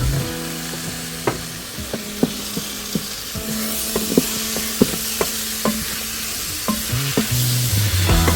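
Onions with ginger and garlic sizzle in oil inside a Chef IQ multicooker, a steady hiss close up, punctuated by repeated clinks and scrapes of a utensil stirring against the pot.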